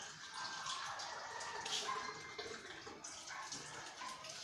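Water runs from a tap into a cooking pot, a continuous splashing stream with small drips, fairly quiet and steady with no talk.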